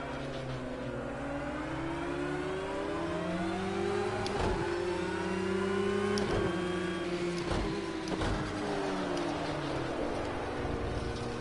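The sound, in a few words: race car engine on outlap in Project Cars 2 video game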